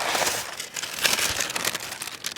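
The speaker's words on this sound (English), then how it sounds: "just gonna take a piece of parchment paper" Parchment paper being pulled off and handled in a home kitchen while making snacks, giving a close, continuous dry crinkling and rustling with sharper crackles throughout.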